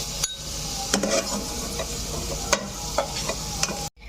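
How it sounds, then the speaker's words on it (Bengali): Potato pieces fry in hot oil with turmeric and salt, giving a continuous close sizzle with occasional light scraping and utensil clicks, ending in an abrupt cut. "আমি আলুগুলো ভালো করে ভেজে নিচ্ছি"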